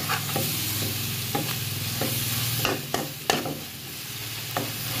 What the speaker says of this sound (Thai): ผัดให้เส้นนุ่มอีกสักหน่อยนะครับผม